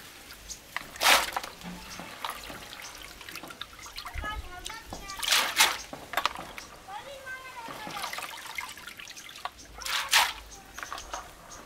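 Hands swish and splash white musli roots around in water in repeated bursts, lifting them into fresh water, while people talk throughout.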